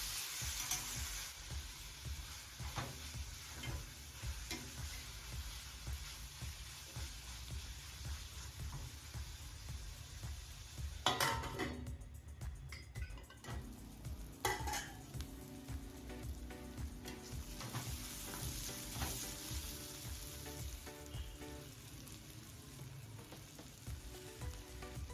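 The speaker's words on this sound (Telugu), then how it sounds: "7 నుంచి 10 నిమిషాల వరకు సిమ్లో మాడకుండా జాగ్రత్తగా కలుపుకుంటూ ఫ్రై చేసుకుందాం." Banana flower fries in a pan for a home-style curry, a steady loud sizzle running throughout with scraping stirs and a few louder clatters of the spoon against the pan, no voices.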